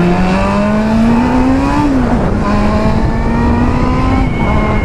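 A Honda Hornet motorcycle engine revs loudly and close by, its pitch climbing steadily, then dropping sharply and settling into a high sustained drone with strong harmonics.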